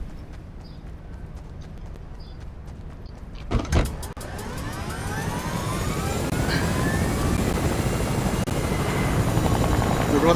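A helicopter in the video game Fortnite spins up: a sharp mechanical clunk, then a rotor whine and beating thrum that grow steadily louder and fuller, heard alone without talk.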